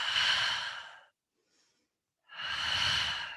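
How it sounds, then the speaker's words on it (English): Two long, breathy exhales out through the mouth during a mat Pilates leg exercise, each lasting about a second, separated by a silent pause, close and clear. "Exhale out through the mouth."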